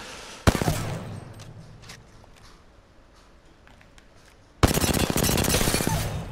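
A CAR submachine gun fires in the video game Apex Legends: a sharp, loud burst near the start, a lull with faint shuffling, then a second, longer sustained volley of rapid close shots.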